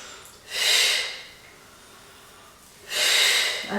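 Two forceful breaths pushed out through the nose or mouth during an abdominal exercise with legs raised, each lasting about half a second to a second, with a pause in between.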